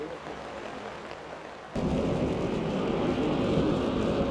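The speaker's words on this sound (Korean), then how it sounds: "좀 전까지 엄청난 비가 내리더니 어느새 또 그치곤 했다." Heavy summer rain in Alaska, a steady broadband roar that swells suddenly partway through and then holds loud and close, with no voices.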